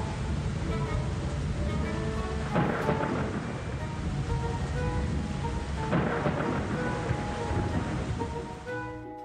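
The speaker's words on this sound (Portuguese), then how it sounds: "O tempo passou e a chuva chegou." Steady heavy rain during a thunderstorm, a dense continuous roar with two long rolls of thunder swelling through it, loud and unbroken with no voices.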